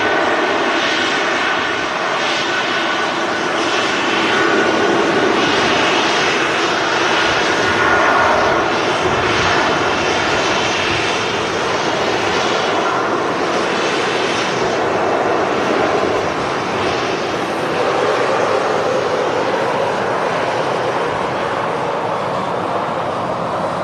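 An Icelandair Boeing 757 departs Manchester Airport with a loud, sustained jet engine roar that swells and holds for a long stretch, broad and rumbling, with no voices over it.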